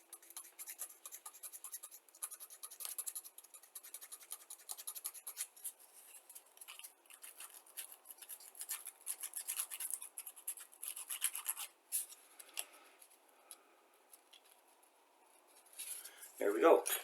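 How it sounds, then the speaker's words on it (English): A small plastic part for a 1/32 scale Revell Mack R-Model truck kit is rubbed with sandpaper in quick, faint scratchy strokes that come in bursts with short pauses, close and quiet. "I'm going to take a little bit, just a bit of sandpaper here"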